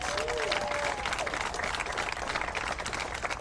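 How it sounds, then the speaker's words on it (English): Crowd applause at the opening ceremony of the 2021 Wisconsin State Fair, steady dense clapping mixed with crowd noise throughout, with a faint voice in the background. "let's give her a round of applause, please"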